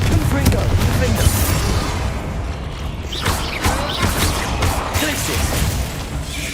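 Confringo fire spell cast in the Hogwarts Legacy video game, a loud, dense run of explosive bursts and crackling impacts amid continuous battle noise, with sharper blasts repeating over several seconds.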